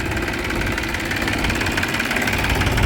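Tractor engine running steadily nearby, a loud continuous rumbling drone with faint knocking texture and no talk.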